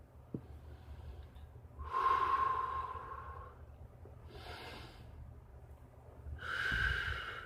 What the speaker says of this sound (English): Breathing that prana energy.